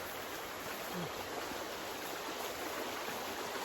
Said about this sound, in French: Il y a une rivière qui passe dans tout le terrain en fait.